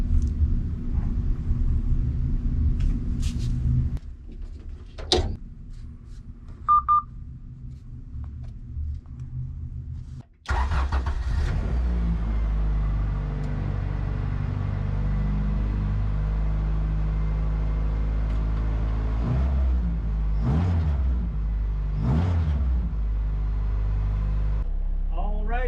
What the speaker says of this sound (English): So I'm gonna start the car and then start to head out there.